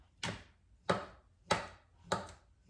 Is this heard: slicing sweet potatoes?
yes